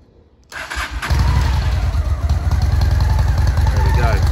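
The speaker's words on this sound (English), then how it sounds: "So we'll start the bike up." A 2006 Honda VT750 C2 Shadow Spirit motorcycle cranks briefly and fires up on choke, settling into a loud, steady, close-up V-twin rumble.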